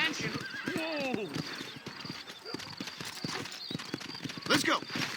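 Horse hooves clip-clopping in a steady gallop inside the Red Dead Redemption video game, mixed with a whinny and voices talking over the ride.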